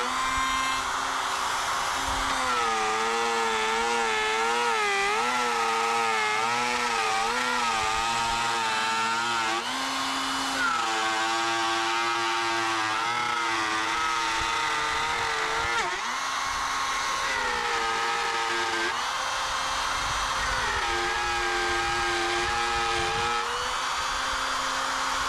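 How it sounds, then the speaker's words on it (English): A router runs continuously for about 25 seconds, cutting a groove to the edge of the line in the wood of a subwoofer box for a Sundown X-8 V3, its loud whining tone wavering in pitch as it moves through the wood. "I'm going to router a little groove right to the very edge of our outside line"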